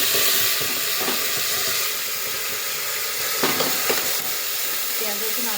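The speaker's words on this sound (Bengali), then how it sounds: "এবার দেখো তেল গরম হয়ে যাচ্ছে, প্রেসার কুকারে দিয়েছি তেজপাতা" Bay leaf sizzling in hot oil in a pressure cooker, a steady bright frying hiss with a few soft clanks and stirring knocks partway through.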